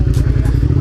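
A Suzuki SV V-twin motorcycle engine runs steadily under riding load, a close, loud, throbbing low rumble with a regular pulse and some wind noise.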